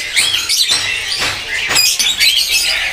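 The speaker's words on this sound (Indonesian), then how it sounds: "Geser ke jalak niasnya nih teman-teman, tersedia juga." A Nias hill myna at a bird kiosk calls in loud, bright, whistling bursts, several sharp phrases in quick succession close to the listener.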